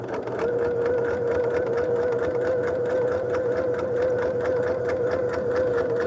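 A sewing machine stitches table topper pieces onto foundations, a close, fast, even mechanical whir with rapid ticking needle strokes running steadily throughout.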